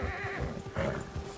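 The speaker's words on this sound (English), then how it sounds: "o urso assustou seu cavalo" A startled horse whinnies loudly in Red Dead Redemption 2, frightened by a nearby bear off the trail, with a shrill neigh rising over low rumbling game ambience and soft hoof movement.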